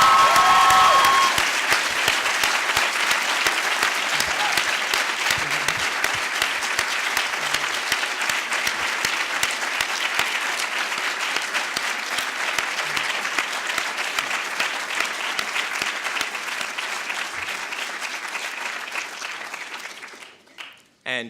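Sustained, loud applause from a large audience of families and friends at a 2010 white coat ceremony, dense clapping filling the hall for about twenty seconds before tapering off abruptly.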